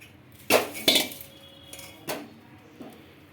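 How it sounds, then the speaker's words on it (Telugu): Metal clanks and scrapes from a metal strainer being worked while ground carrot pulp is strained. Four distinct close knocks come at irregular intervals over a quiet background. "ఇలా మొత్తం స్ట్రైనర్తో ఇలా ఉడబోసుకుంటే బాగా మనకి రసం దిగుతుంది"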